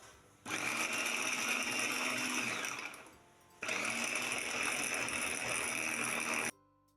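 Electric chopper grinding fried chicken-onion noodle snack ingredients, two loud whirring bursts of about three seconds each separated by a short pause, close and alone.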